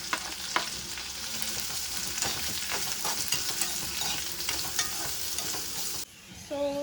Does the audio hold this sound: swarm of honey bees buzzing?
no